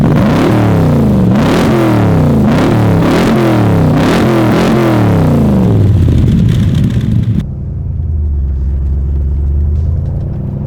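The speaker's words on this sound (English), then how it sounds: "turn over that incredible sounding V8" A 1965 Shelby Cobra V8 revs loudly up and down several times in quick succession, a throaty roar rising and falling close by, then cuts out and settles into a low, rumbling idle.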